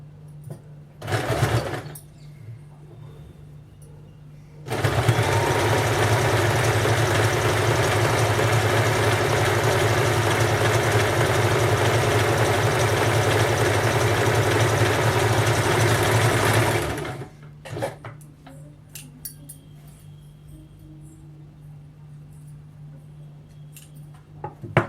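A sewing machine stitching a salwar ladies' pant runs in one long continuous burst of about twelve seconds, loud and close. A brief whir comes before it, and quieter handling noises follow.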